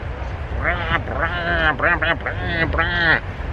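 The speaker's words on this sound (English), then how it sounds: "Do you hear the ducks calling?" Ducks quack repeatedly in a busy run of calls over a steady outdoor background noise.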